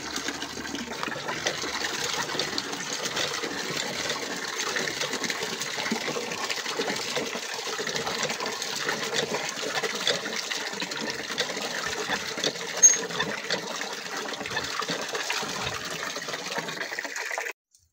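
Water gushes steadily into a bucket, a continuous close splashing and pouring roar that runs unbroken for the whole stretch before stopping abruptly.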